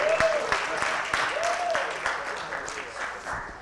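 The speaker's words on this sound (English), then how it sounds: "gotta clap it up everybody" A crowd claps steadily and energetically throughout, with whoops and cheering voices rising over the applause.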